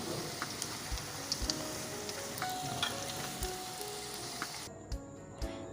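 Roadside pani poori puffs fry in hot oil, giving a steady close sizzle studded with small crackling pops, alone without voices, before the frying noise cuts away near the end.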